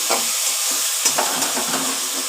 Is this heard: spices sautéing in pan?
yes